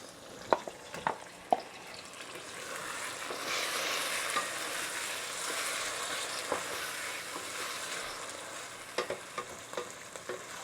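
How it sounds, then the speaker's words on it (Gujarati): Tomatoes are tipped into a frying pan and stirred, making a steady sizzle with sharp utensil clacks against the pan near the start and again near the end, close by and with no speech. "હવે આપણે ટામેટા નાખીશું"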